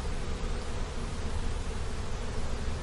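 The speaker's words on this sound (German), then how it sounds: "Teilweise tragen die Bienen, das sind die Arbeiterinnen, dicke gelbe Pollenhöschen in den Bienenstock ein." Honey bees at a beehive, a dense, continuous buzzing hum of many workers close by, steady and unbroken throughout with no talking.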